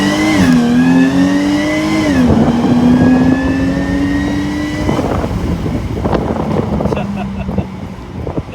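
A stock 340 hp supercharged Jaguar F-Type, loud and close, revs and pulls hard with a rising supercharger whine that drops between gear changes, then settles into a rougher, wind-buffeted drone.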